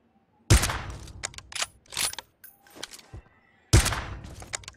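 Gunfire in the battle royale game PUBG: two loud, sharp shots stand out, with quieter scattered shots and thuds between them, near and punchy with short silences in between.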